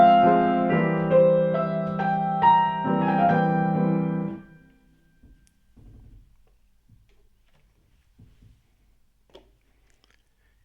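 Piano notes are played smoothly and legato in a short, moderately loud phrase lasting about four seconds, then fade into near silence.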